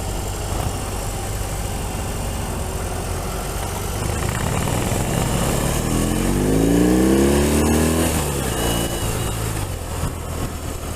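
A Harley-Davidson Street Bob 114 motorcycle engine runs steadily up close, then revs up with a rising, building roar before settling back to a rumbling idle.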